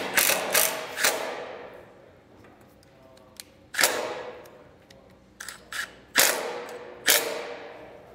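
A self-tapping screw is driven in to secure a trailer breakaway switch. Several sharp bursts of a power driver whir in short separate runs, with quiet gaps and faint handling clicks between them.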